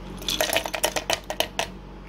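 Ice cubes dropped into a mixer jar of papaya milkshake, a quick run of hard clinks and clatters close by, then quiet, with no talking.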